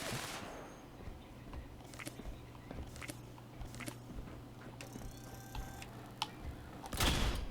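A Berserker's Gauss rifle in Fallout 76 fires a series of sharp, irregularly spaced shots over a quiet background, ending in a louder, closer blast.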